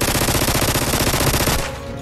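Rapid automatic gunfire from an animated parody, a loud continuous burst of tightly spaced shots that stops abruptly near the end, leaving a quieter tail.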